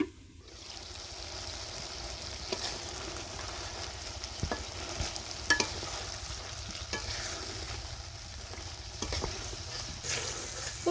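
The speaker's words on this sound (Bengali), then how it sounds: "পুঁটি মাছটাকেও খুব ভালোভাবে কষিয়ে নিব। ঢাকনা দিয়ে দিয়ে ঢেকে অল্প কিছুক্ষণ কষিয়ে নিব।" Small puti fish sautéing in a covered pan in a Bangladeshi village-style kitchen, giving a steady close sizzle and fry with occasional soft stirring scrapes, no talk.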